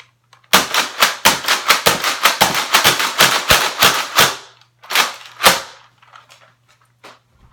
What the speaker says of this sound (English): the Roller Fury, it can shoot with 10 darts, and it's a spring action, pump action